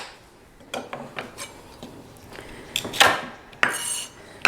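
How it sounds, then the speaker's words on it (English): A knife chops celery on a cutting board for tomato soup, giving several sharp, irregular clicks and knocks, close and moderately loud, with no talking. "Now I'm going to chop the celery."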